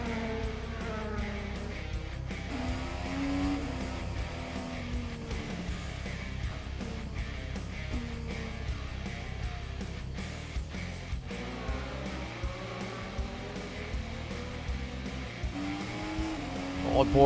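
Onboard an IndyCar during practice at Barber Motorsports Park, the engine whines and shifts continuously as the car brakes and accelerates through the corners, loud and close.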